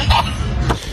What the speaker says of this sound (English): Who is that coughing?